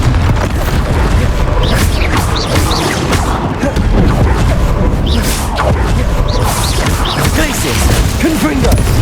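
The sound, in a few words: Bombarda and Confringo explosion spells in video game Hogwarts Legacy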